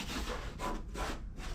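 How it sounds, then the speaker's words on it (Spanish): Sanding with rough, repeated back-and-forth rubbing strokes inside a bus being converted into a motorhome, close and fairly steady, with no voices over it. "Hay que ahora venir y lijar."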